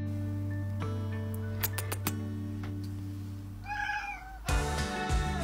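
A cat meows several times indoors in a house, short rising cries near the end of the clip, with a faint mechanical tick and low steady hum in the background and no talking.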